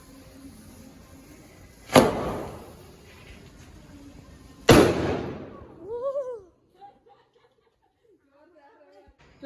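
Two sharp firecracker bangs a few seconds apart, each followed by a crackling decay, then brief laughter and quiet.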